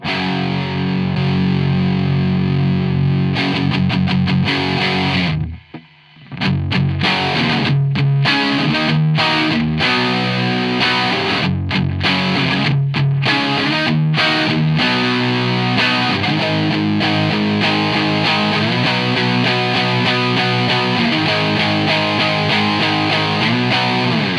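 Electric guitar through a Marshall 1959 Super Lead overdrive pedal, gained up and hit with a clean boost, plays continuously with a thick, saturated, sustained tone, pausing briefly once before carrying on loud and dense.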